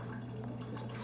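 Celery is rinsed under a running kitchen tap, a faint, steady splash of water with light clinks behind it, brief and close.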